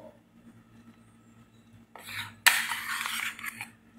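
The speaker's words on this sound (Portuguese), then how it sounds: "Vou bater com a ajuda do fouet pra ele ficar bem batidinho" Metal whisk beating a broccoli gratin mixture in a bowl, starting as soft rubbing then breaking into a brisk, loud scraping and clattering against the bowl for the last seconds, with no talking.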